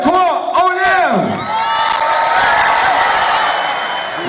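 A crowd at the Arnold Classic 2018 strongman event in Canada bursts into loud shouts, whoops and cheers after a lift, then settles into a sustained roar of cheering and applause.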